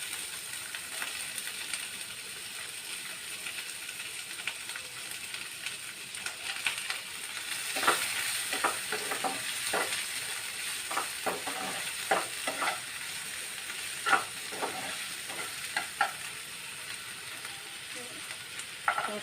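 Onions fry in a pan for a paneer gravy, a quiet continuous sizzle with a cluster of sharp stirring scrapes and clicks in the middle and toward the end.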